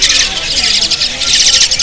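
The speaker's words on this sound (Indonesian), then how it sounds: "yang selanjutnya kita pantau ini ada burung anakan jalak suren ya" A young Asian pied starling chick gives rapid, shrill, insistent begging calls at a bird market, loud and close, continuous throughout.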